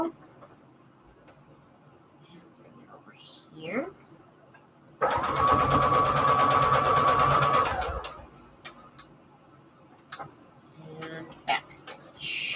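A sewing machine stitches fabric onto index cards in one steady burst of about three seconds, close and fairly loud, set between quieter handling noises and soft talk.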